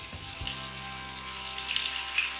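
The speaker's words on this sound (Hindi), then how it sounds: "अब हम इसमें एक एक करके अपने जो कटलेट बनकर तैयार हैं इसे हम डीप फ्राई कर देंगे।" Vegetable cutlets deep frying in hot oil in a kadhai give a continuous, even bubbling hiss close by, with a brief clatter at the start as they go in and a steady low hum beneath.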